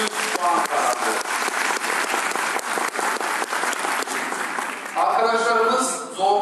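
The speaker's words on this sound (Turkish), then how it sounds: "Davut'u alkışlayalım." Audience at a 2018 Ottoman Turkish quiz competition final applauds a contestant with dense, sustained clapping from a nearby crowd for several seconds, then a voice speaks as the applause fades.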